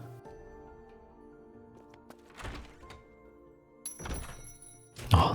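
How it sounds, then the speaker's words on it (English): A checkpoint chime from the video game Tomb Raider Anniversary, with sustained tonal layers, a bright shimmering swell near the end and a few dull thuds and bursts from the game along the way. "Oh, that checkpoint noise is triggering some nostalgia."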